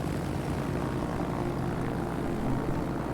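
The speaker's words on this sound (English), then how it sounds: "Torpedo bombers on the Fubuki." Steady, distant drone of torpedo bomber aircraft engines in World of Warships, a continuous propeller hum with no talk over it.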